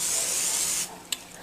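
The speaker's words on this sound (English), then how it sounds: "spray your cookie sheet" Cooking spray hisses onto a cookie sheet in one steady burst of just under a second, followed by a brief second puff, close and clear with no talking.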